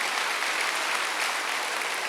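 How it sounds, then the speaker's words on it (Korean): A church congregation claps together at a Korean Wednesday worship service, a steady, dense wash of applause filling the hall throughout without a break. "박수 한번 드리세요."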